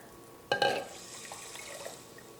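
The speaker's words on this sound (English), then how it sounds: "I'm going to put it in my saucepan with about 4 to 6 cups of water" Water pours into a saucepan of French lentils for boiling, a sudden close splash followed by a softer, steady trickling fill that fades, with no talk.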